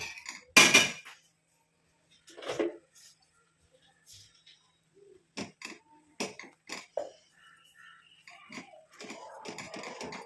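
A spoon stirs henna powder paste in a bowl, giving scattered close clinks and scrapes in short bursts with quiet gaps between.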